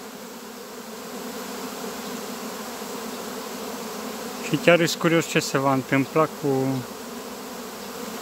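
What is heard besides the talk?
honey bees flying around a beehive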